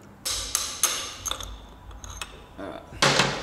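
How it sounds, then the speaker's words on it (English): A hammer gives light taps to a punch during a top end rebuild of a Yamaha YZ250 two-stroke engine. About half a dozen sharp, close taps fall at irregular intervals, and the last one is the loudest. "I had to give it a little light tap with a hammer and punch"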